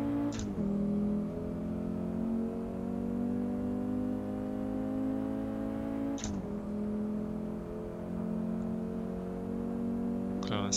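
A Ford Focus Mk2 laps a circuit in Assetto Corsa, its engine droning steadily near and loud, with brief clicks or gear shifts in between and a voice talking over it.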